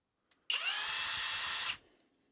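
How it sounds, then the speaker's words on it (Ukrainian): A FLEX cordless 1/2-inch impact wrench, rated 1560 Nm, whirs at high speed in one sustained burst of just over a second, starting and stopping abruptly, close by. "Слухайте цей звук."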